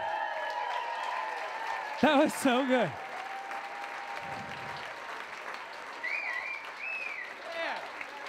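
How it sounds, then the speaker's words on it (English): Audience applause at an evening summer charity benefit, a steady broadband patter running throughout, with voices cheering and speaking briefly over it. "How about a round of applause for everyone?"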